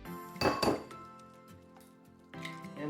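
Two eggs cracked against a bowl's rim and dropped in for a chicken lollipop drumstick coating, giving two close, sharp cracking clinks in quick succession, then a quieter pause and a later clatter of shell and bowl.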